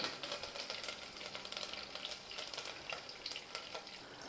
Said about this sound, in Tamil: கடுகு சீரகம் உளுந்து நல்லா பொரிஞ்சிருச்சு